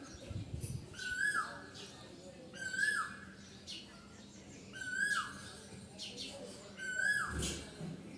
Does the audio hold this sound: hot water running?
no